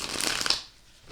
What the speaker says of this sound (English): one more shuffle and some cutting